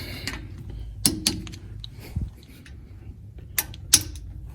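Wrench clicks and metallic ticks on torqued differential cover bolts of a Jeep JK axle, a few sharp separate taps over low rumbling background, close by, no talk.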